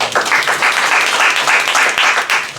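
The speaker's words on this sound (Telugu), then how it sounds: "చప్పట్లు కొట్టండి గట్టిగా." Congregation at a Sunday worship service in Abu Dhabi clapping loudly together, a dense, steady run of handclaps with a rhythmic pulse and no pauses throughout.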